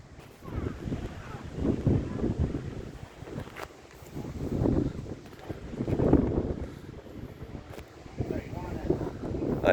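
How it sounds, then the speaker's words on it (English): Wind buffets a phone microphone at an outdoor cricket ground, making an uneven rumbling roar that swells and fades in gusts while a voice talks over it. "it's quite windy down here. You can probably hear all that through the phone."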